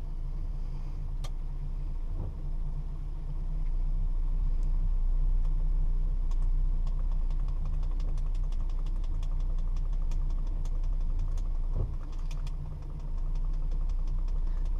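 A 1962 Dodge Lancer GT engine idling warm at full operating temperature, a low steady rumble with faint rhythmic ticking, close and even throughout with no talk.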